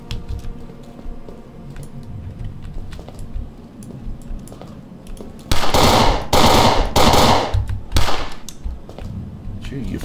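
Loud, close bursts of rapid gunfire ring out in the Fort Zombie video game as a zombie is shot: several clustered volleys in the second half, following quieter background game noise with a voice talking.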